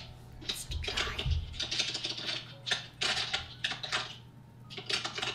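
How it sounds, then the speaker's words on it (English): Vigorous typing on a keyboard in a room, rapid uneven bursts of clicky keystrokes with short pauses, moderately close and fairly quiet, no speech. "all you hear in the background is just vigorous typing"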